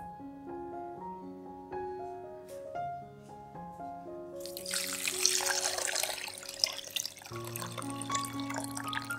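Glutinous rice for a vegetarian Nyonya rice roll is washed in water, with splashing, trickling water rising about halfway through over a soft, plucked background melody.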